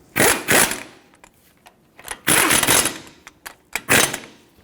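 Two bolts are snugged up on the caliper bracket of a 2000-2005 Ford Excursion's front brakes, giving bursts of close, loud ratcheting and whirring with short pauses and small metallic clicks between them.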